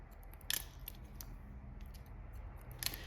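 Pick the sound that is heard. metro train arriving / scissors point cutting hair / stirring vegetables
scissors point cutting hair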